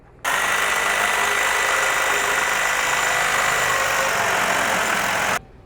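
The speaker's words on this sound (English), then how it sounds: "I've got a Sawzall with a saw blade, and I'm just gonna run it backwards across this to make saw blade marks" A Sawzall reciprocating saw runs its blade backwards across a 2x12 wood board outdoors in the desert, giving a loud, steady buzzing rasp that lasts about five seconds and then cuts off abruptly.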